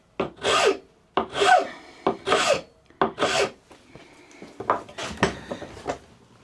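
A rasp works the wood of a mass-produced saw handle being re-profiled, in four strong, rhythmic scraping strokes followed by lighter, shorter rubs and taps, close and clear with no talking.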